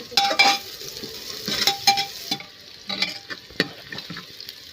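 Onions frying in a pan sizzle softly while a utensil stirs them, with intermittent metallic clinks and scrapes against the pan and no speech.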